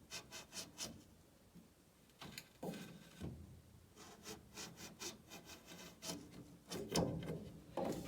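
A part for a supercharged K20 Mini being rubbed down by hand with an abrasive, producing rhythmic back-and-forth scraping strokes, soft and close, with a brief pause before the strokes resume steadily.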